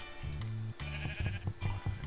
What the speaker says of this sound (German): Schafe die Wolle abziehen